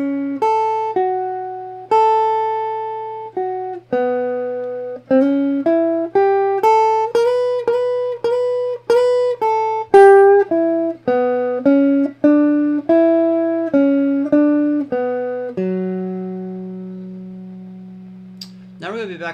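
Clean plucked guitar lick over two bars of the four chord, in a lesson, single notes and short phrases with a low hum beneath, ending on a long sustained note.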